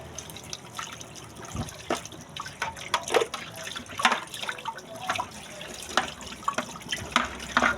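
Tap water runs into a sink while dishes are washed, with irregular splashes, drips and clinks of plates and utensils coming close and unevenly, with no voices.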